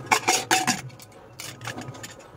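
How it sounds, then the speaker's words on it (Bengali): A metal lid goes onto a cooking pot of potatoes and spices on a home gas stove, with a few quick, close clanks followed by softer rattles as it settles. "চলো ঢাকটান লাগিয়ে দিই।"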